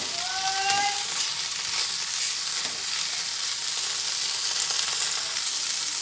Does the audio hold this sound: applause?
no